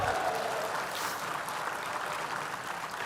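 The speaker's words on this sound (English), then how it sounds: "Can we get a round of applause for new funding for geothermal systems?" Applause from a benefit-breakfast audience for new geothermal funding: a dense, steady wash of many hands clapping at even loudness throughout, with no voices standing out.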